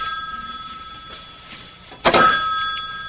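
An indoor telephone rings with a bright, sustained electronic bell tone, a louder ring bursting in near the end over a quiet room, with no speech.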